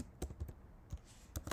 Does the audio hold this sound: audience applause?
no